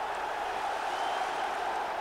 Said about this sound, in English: And even the North Bank joins in the applause.